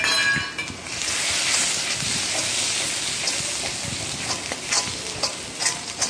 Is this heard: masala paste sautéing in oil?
yes